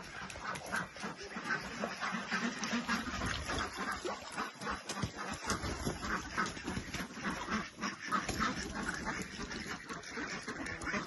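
A group of ducks quacks continuously in dense overlapping calls, near and fairly loud, over an outdoor background.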